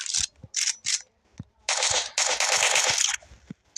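Automatic gunfire in a prison escape video game: three short bursts, a pause with a couple of single clicks, then a long sustained burst before a few trailing shots, close and sharp.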